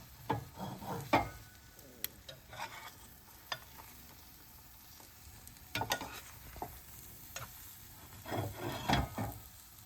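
Omelette with ham and mushrooms frying in a slowly tilted pan, with soft sizzling and scattered scrapes and knocks of a spatula, close but quiet, with bursts of activity separated by calmer stretches.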